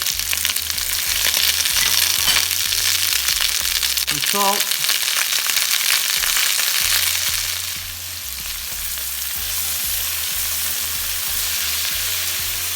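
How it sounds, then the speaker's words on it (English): Loud, steady sizzling of onions frying in a hot oiled pan, with a brief spoken remark partway through and an engine-like hum beneath. "Nice sizzle."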